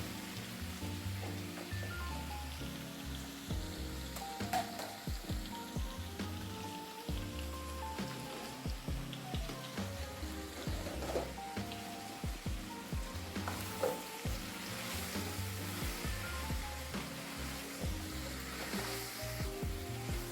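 Spice paste fries in oil for a Bengali village-style vegetarian dish, a quiet, continuous crackling sizzle with scattered pops and occasional stirring clatter over about twenty seconds, with no voices.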